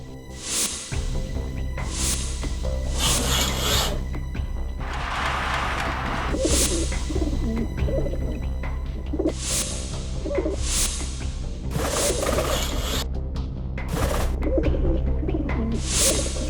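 Pigeons coo in soft, repeated calls, with a few louder fluttering or rustling bursts in between, set against a low, steady background hum.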